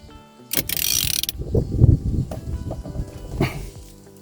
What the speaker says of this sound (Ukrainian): Тепер на 22 бере можна накидний ключ, можна ось інструмент і скручуємо цю гайку.